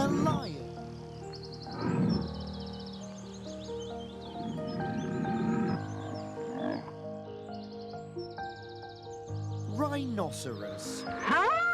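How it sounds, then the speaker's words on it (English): A lion roars in several deep, rumbling bursts spaced a few seconds apart. They sit amid a busy wild-animal soundscape with music-like tones and chirps, and moderate loudness throughout. "Lion. It's a lion."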